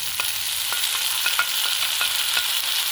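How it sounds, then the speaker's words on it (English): Chopped tomatoes hit a pan of green peppers frying golden brown for a Kenyan meal, a steady close sizzle with a spoon scraping and stirring in regular strokes. "And now we can now go ahead and add in our 2 chopped up tomatoes."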